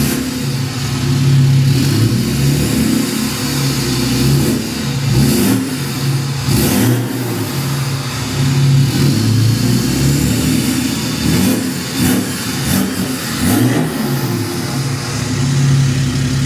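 A BMW 330d F30 diesel engine with a straight-pipe exhaust revs loudly and repeatedly, rising and falling in pitch with a rough, unmuffled exhaust rumble, steady and close throughout.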